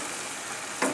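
Pork sizzling in a pan as gluten-free soy sauce is stirred in, a steady close hiss with a brief louder burst near the end.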